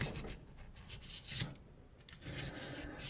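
A cleaning brush scrubs back and forth inside a gun's action, loosening debris with soft, close rasping strokes in an irregular rhythm, faint and without any voices.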